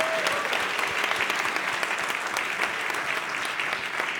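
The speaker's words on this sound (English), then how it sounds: "Good round of applause." An audience applauds at a startup competition awards announcement, steady dense clapping from many hands filling the room at an even level throughout.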